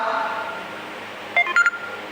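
A few short electronic phone beeps, two or three quick tones, sound briefly and fairly clearly at the end over a quiet room hum.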